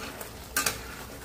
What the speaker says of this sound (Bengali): একটু নেড়ে চেড়ে